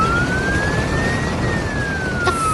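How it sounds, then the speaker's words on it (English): An animated fire truck siren wails in a slow rising and falling tone over a dense, loud wash of traffic and engine noise, sounding continuous and fairly near. "Here comes the hero of the city, sirens wailing and lights flashing,"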